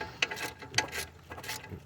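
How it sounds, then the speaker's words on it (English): A flex head ratchet wrench clicks through a few short bursts of ratcheting, faint and close, with brief pauses between the strokes. "It's a flex head ratchet wrench."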